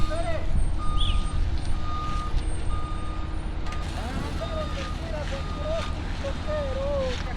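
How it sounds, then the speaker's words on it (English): Concrete trucks roll onto a Denver residential job site where sidewalks and curbs are being poured; a truck's reversing alarm beeps repeatedly at a steady rhythm under wind noise and engine rumble. "Got some more concrete trucks rolling in."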